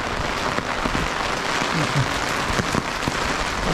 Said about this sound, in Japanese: しかしすごい雨ですね。